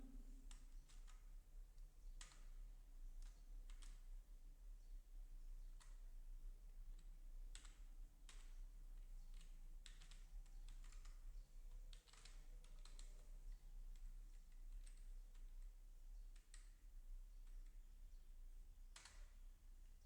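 Rapid clicking keystrokes on a computer keyboard while writing Django REST framework code, steady irregular typing heard close but quietly, with no speech.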